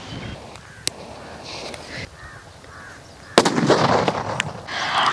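Bullet bomb firecrackers set off outdoors in a village, one sharp crack early, then a louder blast followed by dense crackling and popping, with crow caws mixed into the background.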